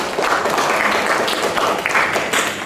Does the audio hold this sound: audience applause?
yes